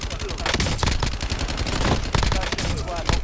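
Gunfire in the battle royale video game Warzone: dense, rapid bursts of shots cracking one after another, loud and close, with heavier clusters of fire throughout.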